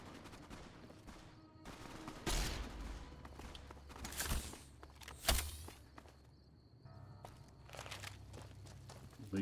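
Gunfire in Fallout: A Tale of Two Wastelands out in the Mojave, several sharp bursts and single shots at varying distances over quiet ambient sound and scattered footsteps.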